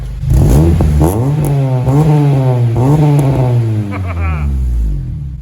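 A warmed-up Honda Accord CL9 with aftermarket modifications is revved hard at close range. Its loud engine note climbs and drops through several repeated rev blips, then settles back toward idle.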